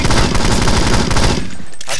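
Loud, rapid automatic gunfire in the video game 007 Nightfire, a dense burst of shots that cuts off after about a second and a half, leaving a short tail of quieter sound.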